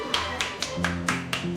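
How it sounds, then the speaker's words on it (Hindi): Children in a classroom clapping loudly, seven sharp claps in an uneven rhythm, close and distinct, with a voice-like harmonic tone running underneath. "सभी बच्चे जोर जोर से तालियां बजाने लगे"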